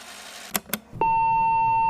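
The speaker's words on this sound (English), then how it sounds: "Listen for the beep and be rad." A steady electronic answering machine beep sounds after two short clicks, holding a single pure tone for about a second until the end.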